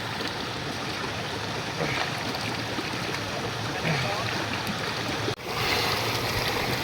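Jungle waterfall of clear water, a steady broadband rush of falling and flowing water close by, constant throughout with faint voices in the background.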